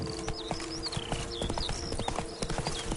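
Hooves of the horse Roach clop steadily in The Witcher 3: Blood and Wine, a quick, even rhythm of close footfalls over a continuous bed of game ambience with whistling tones on top.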